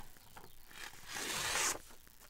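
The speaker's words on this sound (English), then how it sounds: "Just tearing it. This is paper from Antique Papery." Antique paper torn by hand, a single drawn-out rip that builds to a loud, broad rasp near the middle and then stops, with faint rustling before and after and no talking.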